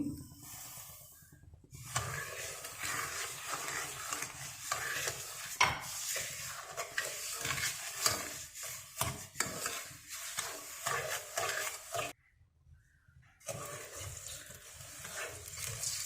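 Semolina is roasted and stirred in ghee over low heat for sooji halwa: steady scraping and sizzling hiss runs throughout, close and fairly quiet, broken by two brief pauses.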